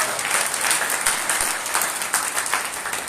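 Applause from a church congregation at an Easter Sunday service, steady dense clapping filling the room without a break, moderately loud and close.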